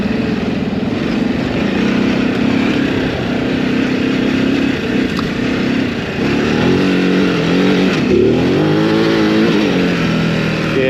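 Ducati Desert X motorcycle engine on a riding loop, a steady droning engine note with throttle changes and a rising rev surge near the end, close and continuous.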